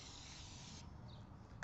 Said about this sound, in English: spray it on.